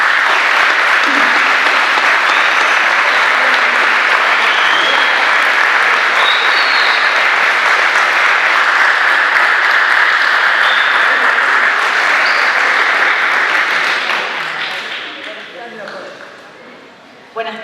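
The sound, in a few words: audience applause welcoming a guest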